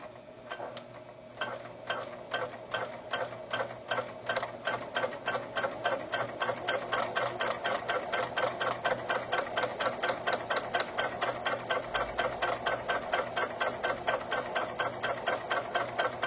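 A sewing machine stitches webbing for keychains in a fast, steady run of mechanical ticks that speeds up and keeps an even rhythm, close and clear with no talking.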